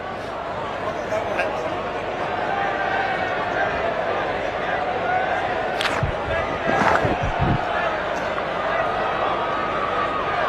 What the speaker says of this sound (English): Oh, the crowd are loving it, and so am I.